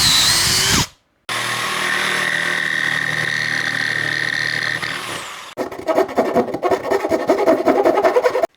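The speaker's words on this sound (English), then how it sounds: "I'm going to put a slot in the top of this" A power tool cuts a slot into the top of a part for a Gibson Modern-style guitar build, first a steady loud whine, then a brief pause, then a rougher, rapidly pulsing grinding, close with no speech.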